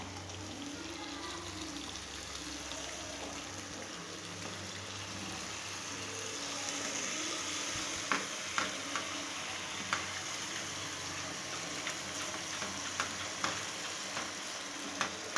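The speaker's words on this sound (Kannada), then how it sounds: "ಈಗ ನಾವು ಬೇಯಿಸಿಕ್ಕಿರುವ ಪಾಸ್ತಾ ಹಾಕೋಣ" Boiled pasta tipped into a hot pan and stirred, a low steady sizzle with scraping and soft clinks from a spoon growing busier toward the end; no one speaks.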